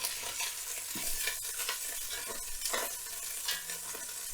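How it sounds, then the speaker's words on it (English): Oxtail sears in a hot pan, a crackling sizzle broken by repeated scrapes and knocks as the pieces are turned, close and moderately loud with no speech. "We turn and make sure every single side is getting a good sear."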